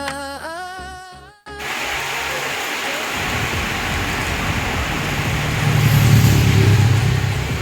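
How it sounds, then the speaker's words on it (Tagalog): Heavy storm rain pours down on a camp, a dense, loud hiss that swells steadily after a short musical opening, with a low rumble building toward the end. "Grabe, lakas ng ulan."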